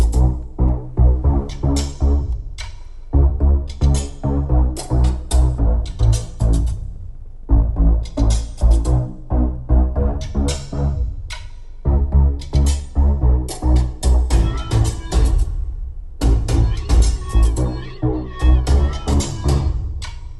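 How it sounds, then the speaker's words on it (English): Music playing through the 12-speaker Bose premium audio system in a fully loaded 2022 Mazda 3 Turbo, loud and bass-heavy with a steady punchy beat in repeating phrases and brief breaks, no talking over it. "the 12-speaker Bose premium audio system. That's what we have on board, of course, with the fully loaded model, and we'll go ahead and give it a sample right now."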